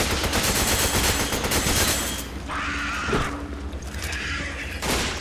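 Rapid gunfire in the Resident Evil 5 video game, a dense crackling burst of shots for about two seconds, then a quieter stretch with a few scattered bursts and a final burst near the end.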